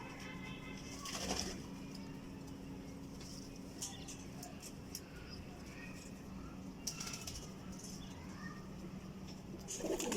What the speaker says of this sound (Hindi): कबूतर आपको दिखा रहे हैं रामपुरी